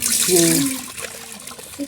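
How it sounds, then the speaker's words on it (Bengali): Rice being rinsed by hand in water in a village kitchen, the splashing and sloshing of water running steadily under a voice that fades after the first second. "চাউল ধুচ্ছেন চাউলের যে ময়লাগুলো আছে এই ময়লাগুলো পরিষ্কার করা হচ্ছে"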